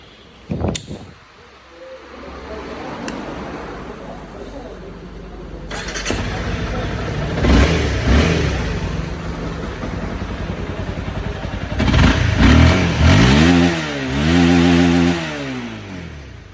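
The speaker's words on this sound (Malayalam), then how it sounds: "പിന്നെ വണ്ടിയുടെ സൗണ്ട് നിങ്ങൾക്ക് കേൾപ്പിച്ചു തരാം." A used vehicle for sale at a shop in Koyilandy starts up, then its engine runs and is revved in several rising and falling bursts, loud and close, with little talk.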